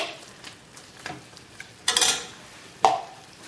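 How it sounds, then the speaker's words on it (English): Butter beans tipped into a pot of creamy sauce made with Philadelphia cream cheese, heard as soft stirring scrapes and two sharper clinks of utensil against the pot, close and moderately loud, with no talking. "So now I'm going to go ahead and I'm just going to add my beans in."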